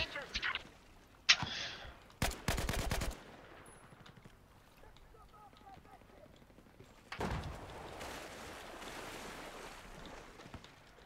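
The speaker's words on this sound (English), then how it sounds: "Sniper shot." Gunfire in Battlefield 4 on the Hainan Resort map, with sharp shots clustered in a quick burst early on. Rumbling game ambience that resembles surf or engines runs underneath, with faint voices in the mix.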